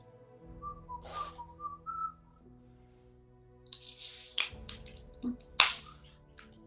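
A person whistles a few short, bright notes near the start. Louder sharp clicks and snaps follow, and faint background hum runs underneath throughout.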